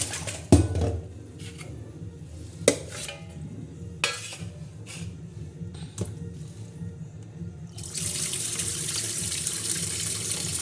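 Water runs and splashes steadily while fish is rinsed and handled under running water, with a few sharp knocks; the flow grows louder near the end.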